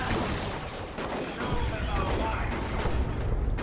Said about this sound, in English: Getting shot down big time by those shotguns.